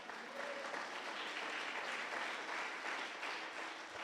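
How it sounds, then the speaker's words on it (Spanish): A church congregation applauds together, a dense, even wash of many hands clapping that holds steady for a few seconds, heard fairly quietly with no talk over it. "¿Usted cree que Dios merece un aplauso?"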